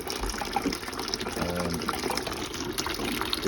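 Hot water drains out of a Valiant 937 boiler into a bucket as a steady, close gushing pour that runs continuously without a break.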